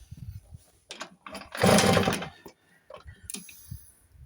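A Tomos A35 two-stroke moped engine with new rings is cranked over during a compression test with the throttle wide open, giving a short close chugging burst between quieter mechanical clatter.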